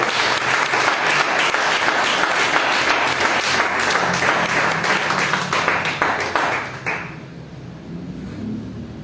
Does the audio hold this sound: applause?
yes